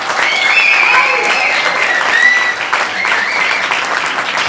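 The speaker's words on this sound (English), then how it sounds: "Let's have one more round of applause for Jamie and Grace." A crowd at a school gala and anniversary celebration gives a sustained round of applause, many hands clapping steadily and loudly, with voices and cheers mixed in.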